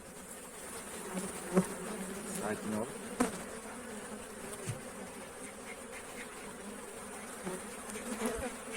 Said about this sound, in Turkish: Evet arı biraz tabi huysuzlandı